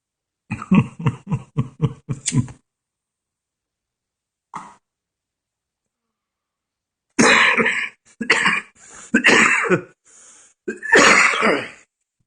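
Several sharp coughs in quick succession, then a pause, a single faint cough, and later a second bout of harsher, longer coughing, close and loud.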